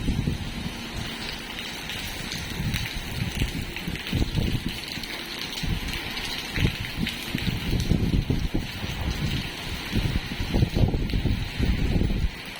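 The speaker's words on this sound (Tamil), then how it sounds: "சரியான பலத்தை காற்று அடிக்கணும்னாங்க ஆனால் எனக்கு தெரிஞ்சு நைட்டு இருந்தே பயங்கரமாக காற்று தான்" Strong wind during a storm in Chennai, rushing and gusting continuously with broad noisy roar and microphone buffeting, steady and loud throughout with no talk.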